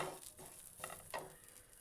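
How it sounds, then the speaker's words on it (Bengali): Oats mixture being stirred in a pan over a low flame, a few soft scraping strokes with a faint sizzle underneath, quiet and close. "এটাকে আমি তিন চার মিনিট মতো নেড়ে চেড়ে নিলাম"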